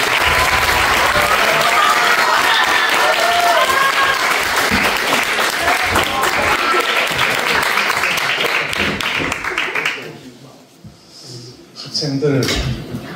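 Middle school students give a welcoming round of applause for a guest lecture by a former Bank of Korea governor, a loud sustained clapping from a large crowd that fades near the end before a voice speaks.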